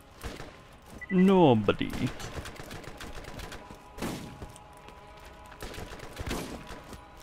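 Scattered gunshots and thuds in the video game Borderlands, moderately loud against a busy game soundscape, with a brief tonal game sound near the start and a voice speaking briefly.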